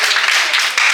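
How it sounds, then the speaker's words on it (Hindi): An audience at an acting workshop applauds two girls for their performance, a loud, dense wash of clapping that continues without a break for about a second. "सब लोग तालियां बजाएं इनके लिए भी"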